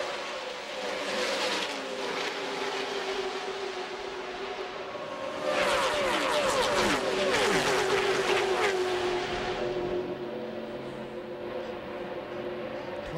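NASCAR stock cars, including a Chevrolet, roaring around an oval racetrack, engines droning steadily and then swelling loudly as a pack passes close by before fading back to a distant hum.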